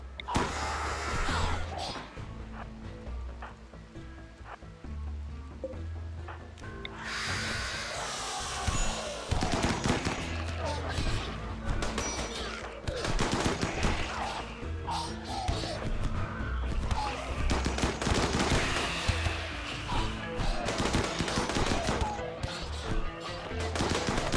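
Rapid gunfire from shooters in the colony game RimWorld, with dense bursts of sharp shots and machine-gun-like rattles continuing almost throughout, loud and layered over a low background score.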